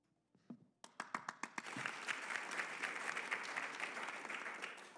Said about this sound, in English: And now, ladies and gentlemen, with our applause as well, please welcome for the welcoming remarks, our host, Deputy Director General, Mr. Lin Hongde